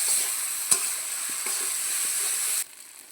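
Turmeric and spices fry in hot oil for chicken curry with a steady close hiss and a few faint stirring taps, then the sizzle drops abruptly near the end. No one speaks.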